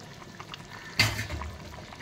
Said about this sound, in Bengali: এবার মাছগুলো দিয়ে একটু ফুটে নেবো।